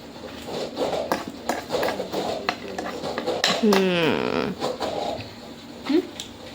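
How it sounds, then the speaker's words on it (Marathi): Food being stirred in a pot with a spoon during hostel-style cooking produces repeated metallic scrapes and clinks of utensils, with voices talking over the clatter. "ते हलव ना एकदा चमच्याने"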